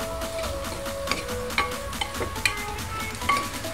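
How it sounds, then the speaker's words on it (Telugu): Goat tripe fries in a pan with garam masala and chilli powder, a steady sizzle under repeated scraping and stirring clicks from a spoon, close and moderately loud. "దీన్ని ఒకసారి ఫ్రై చేద్దామండి"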